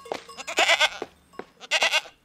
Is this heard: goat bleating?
yes